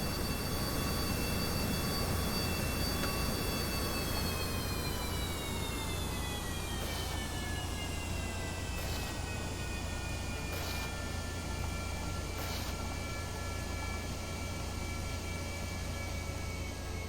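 Rocket engine in Kerbal Space Program throttling up, a steady, loud broadband roar with a sustained low rumble and high tonal whine that slowly falls in pitch, continuous for the whole stretch with no talk.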